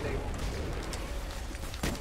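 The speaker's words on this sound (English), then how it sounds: "Oh, he's shooting me." Gunfire in a shooter video game on a snowy map, a steady dense wash of shots and rumble throughout with a sharper burst near the end, under a bit of voice.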